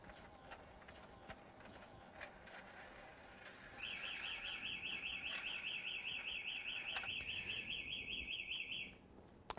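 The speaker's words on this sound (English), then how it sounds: "actually triggered an alarm because penguins aren't allowed through there" A security alarm sounds after a penguin toy crosses a camera-monitored exclusion zone, a steady, rapidly pulsing electronic tone that holds for about five seconds and then cuts off, over faint background clicks and room noise.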